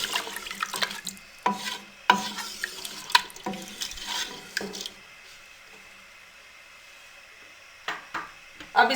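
Water sloshes and splashes in a pot of mutton curry as it is stirred, with clinks and scraping in bursts, then a quieter stretch before more stirring.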